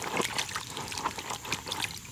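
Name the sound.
water poured over a CAT waterproof work boot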